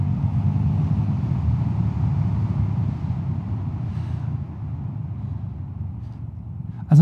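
A Vespa GTS 300 scooter fitted with 13-inch wheels brakes from 100 km/h on the road: a steady, close low engine and wind rumble eases off partway through, and a sharp knock lands right at the end.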